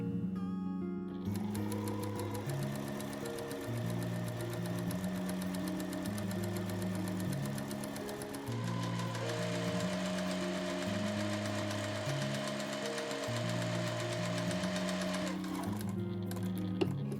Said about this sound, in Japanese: そうしたらここのちょうどロックミシンのミシン線に合わせて縫っていきます。